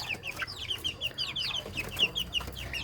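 A rooster clucks in quick, repeated bursts at a steady, choppy rhythm. The calls are moderately close and clear, set against a soft low outdoor rumble.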